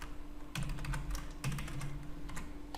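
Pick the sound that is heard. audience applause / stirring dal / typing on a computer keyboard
typing on a computer keyboard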